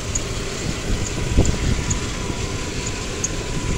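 A 2008 Ford Explorer engine idles after a fuel pressure sensor repair, a steady low running hum with faint ticking, close and even, no talk.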